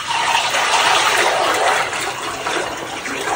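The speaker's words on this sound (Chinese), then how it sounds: "锅中多多加油！" Cooking oil poured into a pot for tiger-skin pig's trotters, a steady broad hiss of liquid pouring that holds fairly loud and unbroken throughout.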